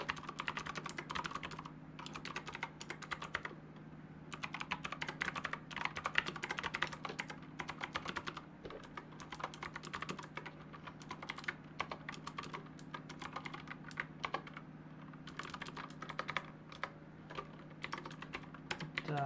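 Rapid, continuous clicking of keys on a computer keyboard during word-processor data entry, quiet and close, in irregular bursts with brief pauses, no voices.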